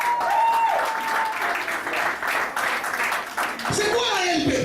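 A church congregation applauds in a sustained wash of clapping, loud and close, under a preacher's raised voice and a short musical tone.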